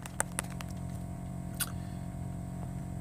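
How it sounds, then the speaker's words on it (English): A steady, low droning hum of air conditioning fills a new truck cab near Chicago, continuous and fairly quiet, with a few small clicks and taps near the start and no talking. "I didn't notice the air conditioning noise until I actually watched the video."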